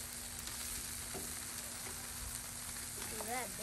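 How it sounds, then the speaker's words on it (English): Bacon frying in a pan, a steady fine crackling sizzle with a faint clink of tongs as strips are flipped, quiet and continuous with brief voices near the end. "Jackson, you want to grab those tongs? Start flip the bacon for me."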